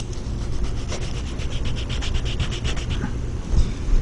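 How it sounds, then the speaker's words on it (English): Hand sanding across a smart repair on a car body panel to smooth and feather out filler, a steady rasping rub that continues throughout with a couple of slightly louder strokes near the end. "just sand it"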